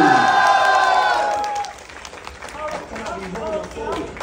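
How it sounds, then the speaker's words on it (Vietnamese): A crowd at a tattoo competition awards event in Long An claps and cheers, the noise building after a shouted call from an emcee over a loudspeaker, with hooting voices scattered through the steady applause. "cho một tràng pháo tay lớn nào!"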